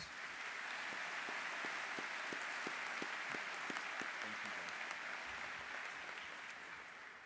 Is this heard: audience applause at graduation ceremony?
yes